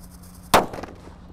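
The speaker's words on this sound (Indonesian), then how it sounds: "selanjutnya kita akan menyalakan disco happy flower warna merah" A red disco happy flower firework bursts with a single sharp, loud bang, followed by a brief crackling tail that fades within a fraction of a second, with no talk.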